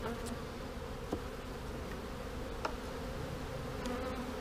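Many bees hum in a thick, constant drone around an opened hive nearby, with a few faint clicks and knocks scattered through the buzzing.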